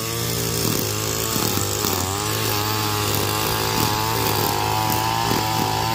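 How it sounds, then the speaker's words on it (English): A string trimmer edging along blacktop during a yard cleanup, its motor droning steadily and loudly up close with slight pitch shifts as it works along the edge. "you do not have to trim the black top like she's doing here"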